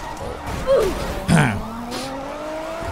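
A video game car's tires squeal twice in quick succession over a steady engine drone, with a voice speaking faintly underneath.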